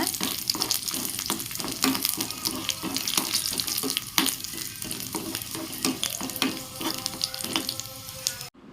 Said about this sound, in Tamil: இப்போ இதோட காஞ்ச மிளகாவும் சேர்த்து நம்ம வதக்கிக்கலாம்